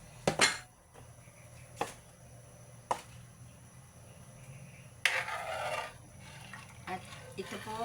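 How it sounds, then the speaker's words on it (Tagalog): Dinuguan, a pork blood stew, being stirred in a pot: a few sharp metallic clinks of a utensil against the pot at spaced intervals, then a longer wet scraping stir, fairly quiet. "Haluin po natin to kasi ito po ay nagbubuo-buo pag hindi mo hinalo."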